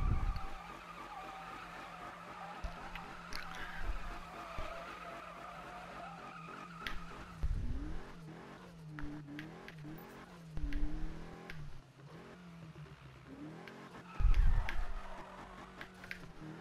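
Video game car skidding through a donut with engine revving, long tire squeal sweeps and rising engine tones that surge and fall, close and loud, with a sharp burst near the end.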